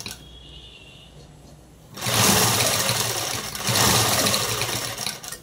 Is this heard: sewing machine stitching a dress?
yes